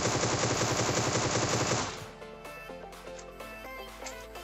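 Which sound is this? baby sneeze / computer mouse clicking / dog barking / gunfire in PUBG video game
gunfire in PUBG video game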